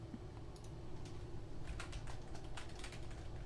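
Quick, light clicks of typing on a computer keyboard at a desk, a few scattered keystroke bursts over a steady low background hum, with no talking.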